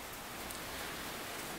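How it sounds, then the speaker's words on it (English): Rain falling steadily on a house roof, a faint, even hiss of dense drops throughout with no talking. "If you can hear me over the rain on the roof."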